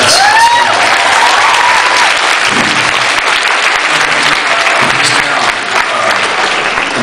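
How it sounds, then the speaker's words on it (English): Loud, sustained applause from a convention crowd in front of a stage, dense clapping throughout, with a brief high tone at the start and faint murmurs mixed in. "round of applause for y'all"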